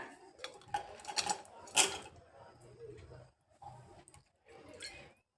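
Fried paneer cubes go into a pan and are stirred with a metal utensil, producing irregular clinks and scrapes against the cookware, loud in bursts with pauses between.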